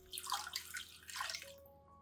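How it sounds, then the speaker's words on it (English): Running tap water splashes briefly over an orchid's roots as the plant is rinsed, two short close gushes with a thin dripping trickle between them and no voices. "You can gently rinse the orchid under running water, being careful not to damage the healthy roots."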